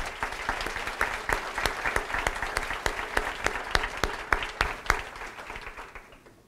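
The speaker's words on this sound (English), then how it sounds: "Round of applause, please, for Ridge." Audience applause for a school team at a middle school academic competition, a steady wash of many hands clapping with sharp individual claps standing out, moderately loud and fading away at the end.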